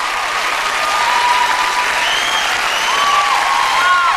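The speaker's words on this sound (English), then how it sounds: "And give them a big round of applause, everybody." A studio audience at America's Got Talent gives a big round of applause, a dense, sustained burst of clapping with scattered cheers and whistles threaded through it.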